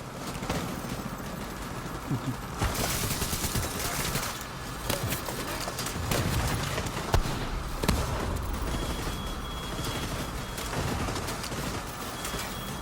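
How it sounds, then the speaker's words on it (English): Dense, continuous Division 2 game noise with repeated booming explosion bursts and sharp cracks, loud and chaotic throughout. "look at these explosions, guys"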